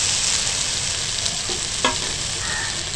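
Sliced ridge gourd and moong dal sizzle steadily in a hot pan, with a few soft scraping knocks as a spatula stirs them.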